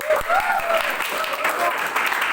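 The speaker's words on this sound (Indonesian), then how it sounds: "Beri tepuk tangan dulu." Children applauding in a classroom, a short burst of clapping mixed with a voice and busy room chatter throughout.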